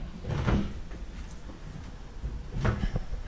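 Built-in closet and cabinet doors in a furnished apartment bedroom being opened or closed, giving two distinct soft thumping knocks about two seconds apart, close by, with quiet room tone between them.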